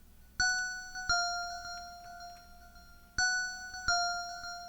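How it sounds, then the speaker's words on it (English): A small synth bell patch from Analog Lab rings out in four bright, clean strikes, spaced in two pairs, each tone decaying slowly and softly with no other sound around it. "adding this little bell that's right here"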